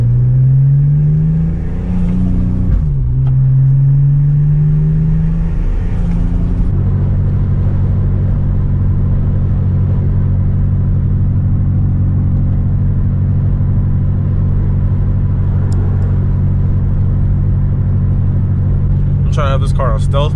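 A Nissan G35 with a mid-mount turbo and straight-through glass pack mufflers, cruising. Early on the engine rises and falls through the revs, then settles into a loud, steady, low exhaust drone.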